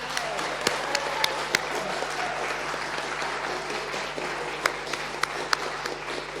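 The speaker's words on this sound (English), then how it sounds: "do a big round of applause for that kai" A gathered community audience at an evening hui gives a round of applause for the kitchen team's kai, a soft, steady patter of clapping with a few sharper individual claps standing out.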